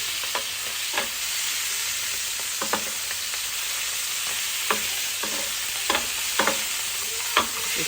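Food fries with a constant sizzling hiss in a pan while a utensil scrapes and taps at irregular intervals as it is stirred and flipped, close and clear with no talking.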